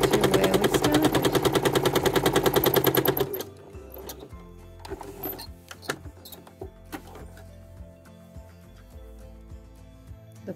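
A sewing machine quilting a block runs fast and steady for about three seconds, a dense rapid needle chatter, then stops, leaving soft clicks and fabric handling.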